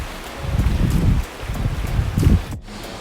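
Wind gusting at a beach on Koh Chang, Thailand, rumbling and buffeting in several surges across three seconds, loud and close with no talk.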